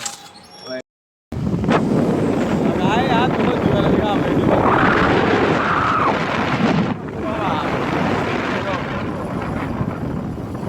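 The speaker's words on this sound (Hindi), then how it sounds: "बहुत तेज हवा चल रही है" Strong wind roars and buffets a phone microphone outdoors, a loud, continuous rumbling rush that cuts out briefly near the start and then carries on steadily for ten seconds, easing a little toward the end.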